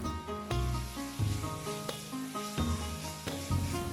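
Ginger, garlic and green chili paste sizzles in a hot pan while lunch is cooked, a steady close frying hiss running under tonal background music for the whole stretch.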